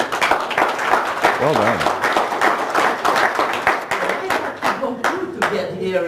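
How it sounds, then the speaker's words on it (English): Applause from a seminar audience, a dense, sustained clapping of many hands with a voice speaking over it and cheering near the end. "give yourselves a round of applause, guys"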